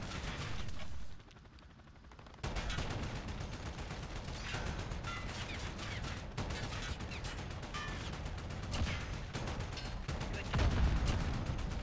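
Rapid bursts of gunfire in the Call of Duty: Modern Warfare video game, dense crackling shots continuing for most of the stretch after a short quiet gap, with a player's voice occasionally over it.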